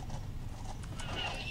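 Horse hooves clip-clopping in the mobile fantasy game Crusader of Light, a quick run of steady hoofbeats heard faintly beneath game music and ambient effects.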